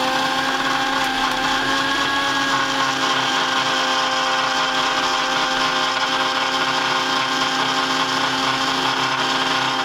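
An electric mixer whirs steadily and loudly at one constant speed for about ten seconds, its motor whine unbroken, while beating cake batter as powdered sugar is added a little at a time.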